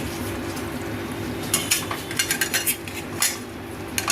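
Chicken pieces lifted one by one from biryani gravy in a cooking pot, giving a run of light metallic clinks and scrapes of a utensil against the pot, close and fairly quiet over a low steady background hum.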